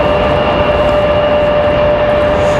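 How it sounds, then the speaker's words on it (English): A JetBlue Airbus A220 jet taking off from Raleigh Durham airport, a loud continuous engine roar with a steady high whine throughout. "Starting to lift. JetBlue, this A220."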